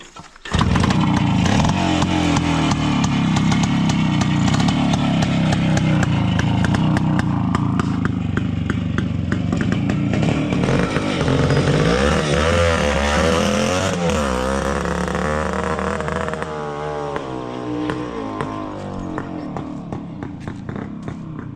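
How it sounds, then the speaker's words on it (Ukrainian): A Minsk 125 motorcycle fitted with a K68 carburetor runs close and loud at idle, a steady rough two-stroke putter that lasts throughout without anyone speaking. "Мінськ повалив і робить на холостих оборотах"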